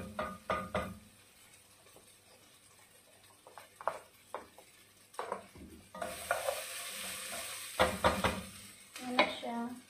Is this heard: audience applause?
no